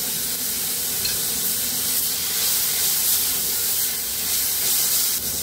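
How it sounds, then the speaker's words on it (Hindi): Onion, garlic and chilli paste fry in a pan for an ivy gourd sabzi, producing a steady, dense sizzling hiss that stays loud and even throughout, with no talking. "प्याज और लहसुन अच्छे से भून गया है"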